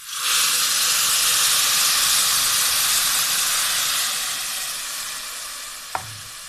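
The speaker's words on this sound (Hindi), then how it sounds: "सेवइयाँ हमारी फ्राई हो गई है। अब मैं इसमें ये शीरा डाल रही हूँ।" Jaggery syrup hitting hot fried vermicelli bursts into a loud, hissing sizzle that slowly fades, followed by a single sharp clink near the end.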